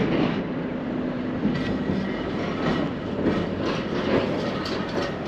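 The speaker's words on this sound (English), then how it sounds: "Another train going past." A freight train passes on the main line out of Cardiff, close and loud, with a steady rumble and rhythmic clickety-clack of wheels over the rails throughout.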